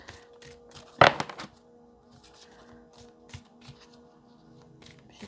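Tarot cards handled and shuffled close by, one sharp slapping burst followed by a few softer flicks and taps, then quiet handling over a faint background hum.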